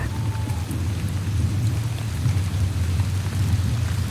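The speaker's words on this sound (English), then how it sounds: "Do you like listening to the rain?" Steady rain pours during a storm, a dense constant hiss with a low rumbling undertone, continuous and enveloping with no talking.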